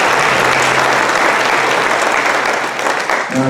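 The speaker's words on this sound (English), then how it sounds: "Y'all give them a big round of applause." A school concert audience gives a loud, dense round of applause for the administrators, the clapping sustained evenly and thinning slightly near the end as a voice begins.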